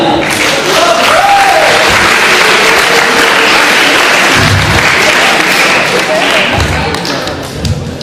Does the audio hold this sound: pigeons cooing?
no